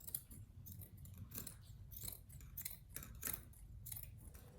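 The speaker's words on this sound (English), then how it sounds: "I'm just going to go along the other side, the back side, and cut off the seam on this side" Scissors cutting through a fabric seam on cloth being made into cleaning rags, a quiet string of crisp snips repeating in an uneven rhythm close by, with no speech.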